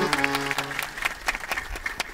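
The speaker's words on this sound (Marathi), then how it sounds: "आता तरी टाळ्या वाजवा" Audience members clap at a Marathi devotional discourse on Sant Dnyaneshwar, with scattered, uneven claps following a brief bit of speech.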